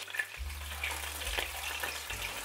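Onion sizzles in a frying pan already used for browning pieces of hake, a steady soft crackle and hiss with a low hum underneath.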